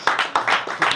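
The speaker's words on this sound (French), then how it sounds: "Applaudissez pour la sœur là." A few people in a church gathering clap in a quick burst of several sharp, close hand claps, briefly and at moderate loudness.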